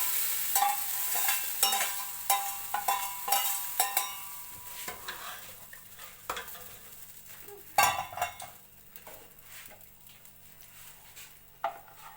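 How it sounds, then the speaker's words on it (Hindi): Red chillies fried in hot oil for a chana dal tempering, with a loud sizzle and repeated stirring and clattering of a spoon against the pan, then a sharp burst as the hot tempering is poured into the dal. "अब हम इसे दाल के अंदर डाल देंगे।"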